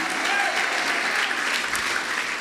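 A church congregation applauds together, a dense wash of clapping from many hands filling the room, with a voice faintly present beneath it.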